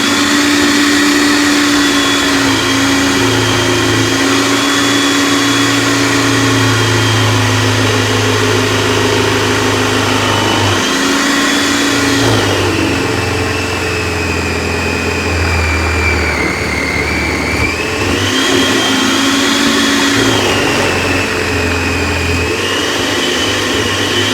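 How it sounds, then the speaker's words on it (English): A loud, steady motorized whir runs throughout, dipping briefly in pitch midway like a blender motor straining on thick contents. "into the blender, just like everything else."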